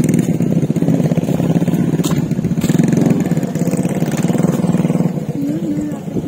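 A motorcycle engine runs nearby at a steady idle with slight revving, a continuous low rumble throughout.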